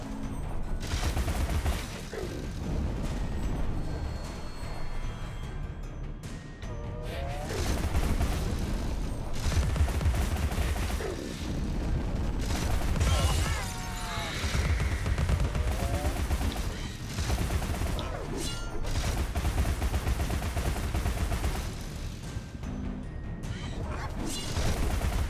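Gunfire and combat in the video game Alice: Madness Returns, rapid bursts of shots and impacts recurring throughout, loud and dense, with someone talking over the action at times.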